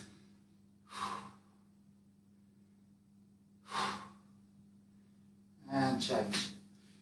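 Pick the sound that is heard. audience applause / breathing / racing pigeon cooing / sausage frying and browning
breathing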